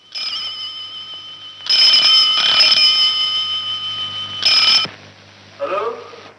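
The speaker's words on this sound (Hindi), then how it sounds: "और फिर खन्ना साहब के फोन की घंटी बजी।" An old telephone bell rings in a 1969 Hindi film scene, two loud bursts of steady metallic trilling separated by a pause, with someone briefly speaking at the end.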